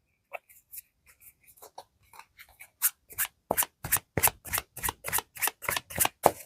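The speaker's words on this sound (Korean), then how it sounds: "그냥 제 손에 든 채로 카드를 좀 뽑아보도록 할 거예요." Tarot cards drawn one by one from a deck held in the hand give off a run of crisp, quick card snaps and slides, sparse at first and then a steady, close, rhythmic series with no talking.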